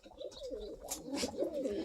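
Cock pigeon cooing close by, soft low rolling coos repeating over a couple of seconds with faint background noise.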